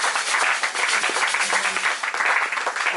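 Church congregation applauding the Lord, many hands clapping in a dense, sustained roomful of applause that swells and dips slightly over a few seconds.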